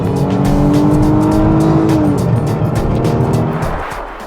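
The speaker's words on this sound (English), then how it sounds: "Listen to the Taurus yourself as I floor the accelerator." A Ford Taurus accelerates at full throttle, its engine roaring loudly and continuously as the pitch climbs steadily, then the note shifts and drops near the end. The sound is close and constant.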